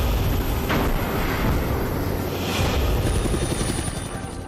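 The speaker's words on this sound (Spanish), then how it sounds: "Así que el hospital nos envió un helicóptero." A hospital helicopter flies overhead, a loud continuous rotor rumble with a dense low throbbing roar and faint swells, heard close without voices.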